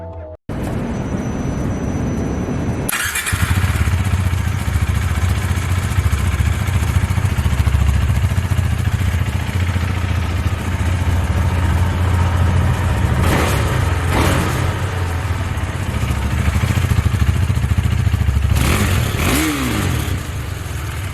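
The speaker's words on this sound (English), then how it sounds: "If you're curious about how this bike sounds, up next is a quick sound check." Husqvarna Svartpilen 401 motorcycle engine starting up after a short silence, then idling steadily and loud up close, with brief throttle blips breaking in around the middle and again near the end.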